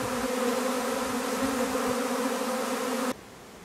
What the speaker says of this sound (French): on voit que la branche elle commence à plier tout doucement, sous le poids de l'essaim